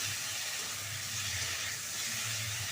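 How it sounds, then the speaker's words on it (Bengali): Cauliflower, potato and bori fry with spices in a pan, giving a dense, steady sizzle and hiss with a low rumble beneath, continuous and close throughout. "মশলার সাথে ফুলকপি আলু বড়ি ভালো করে কষিয়ে নিলাম"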